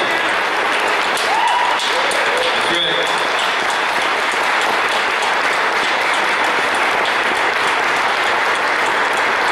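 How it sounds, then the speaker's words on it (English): A crowd at a steak fry applauds veterans with steady, loud clapping throughout, and a voice speaks briefly over it. "Give them a round of applause."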